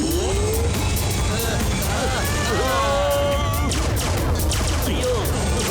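A cartoon car speeds off in an animated chase, its engine roar mixed with whooshing sweeps and crash-like effects under constant shouting voices, loud and busy throughout.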